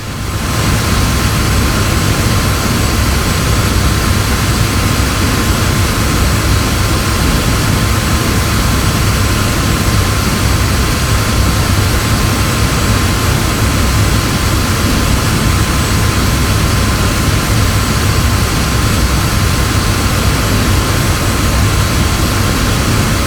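A jet engine roars at full throttle in Digital Combat Simulator, a Sabre taking off at Georgian Springs, a loud, steady broadband drone with a constant whine that holds unchanged throughout with no talk.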